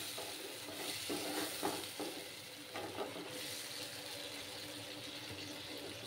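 Cashews, raisins, ginger and tomato fry in a pan with a steady hiss of sizzling oil, broken by a few brief scraping stirs near the start, heard close and fairly quiet.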